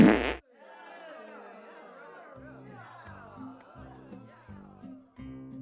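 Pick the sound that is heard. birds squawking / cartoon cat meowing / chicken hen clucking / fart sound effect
fart sound effect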